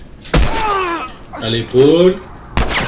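Video game gunfire: a few sharp broadband shots, one near the start and another near the end, heard amid loud excited talking from players.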